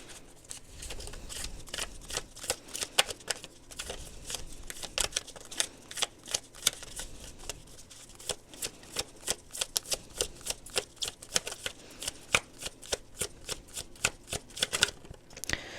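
Tarot cards are shuffled by hand close up, giving a long run of crisp riffling and soft flicking bursts, sometimes irregular and sometimes steady, with no talking.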